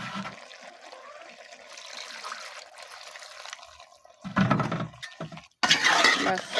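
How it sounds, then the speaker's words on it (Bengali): Water pours into a pan of cooking mixed vegetable curry, a short liquid splash and gush that starts after a quiet hiss and ends with a louder bubbling rush near the close. "আমি এবার সামান্য পরিমাণে পানি দিব বেশি না"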